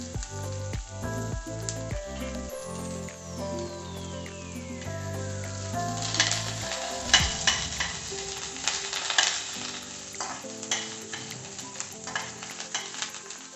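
Medium onion and curry leaves dropped into hot oil: clinks and a tonal ring of utensils first, then a sizzle that rises sharply and crackles on close and steady, with no speech.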